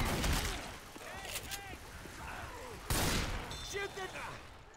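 Gunfire from Left 4 Dead 2 comes in dense bursts of rapid shots at the start and again midway, with voices talking over the game's combat sounds between the volleys.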